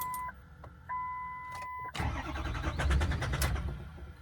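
A Ford 6.0 PowerStroke diesel pickup, a salvage-auction truck, cranks briefly after a few electronic chimes, then fires and rumbles into a rough, uneven run, close and fairly loud, with no talking.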